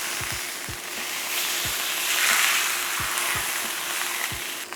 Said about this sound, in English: It says to also sear along the sides of the steak, so let's do that